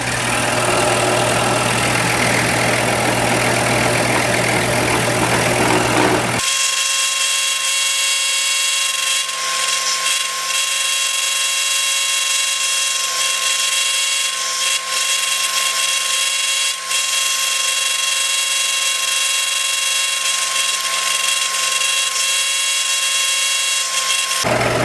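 A power tool whines steadily and loudly as it cuts through clamped wood while a dreidel is being made, a harsher roughly textured cutting start giving way to a sustained even tone with a strong constant pitch.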